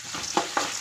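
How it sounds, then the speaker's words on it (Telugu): Chana dal sizzles in hot oil in a pan, a brief close hiss with two small popping bursts as the soaked lentils fry. "పచ్చిపప్పు పేలుతున్నాయి ఫ్రెండ్స్"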